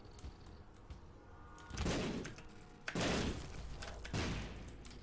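Three muffled, booming explosions from the Kamikaze item in The Binding of Isaac: Rebirth go off about a second apart, each a heavy burst with a short rumbling tail over quiet game background.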